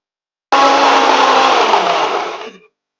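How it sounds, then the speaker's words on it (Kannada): A kitchen mixer grinder whirs loudly as it blends spinach into paste, a steady close motor roar for about two seconds that winds down and cuts off, with no talking. "ಈಗ ಮಿಕ್ಸಿನ ಆಫ್ ಮಾಡ್ಕೊಂಡಿದ್ದೀನಿ"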